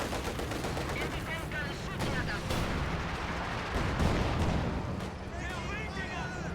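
Artillery barrage landing on a mortar in the World War II strategy game Company of Heroes 2, a dense continuous roar of rapid blasts and crackling gunfire, loud and sustained throughout.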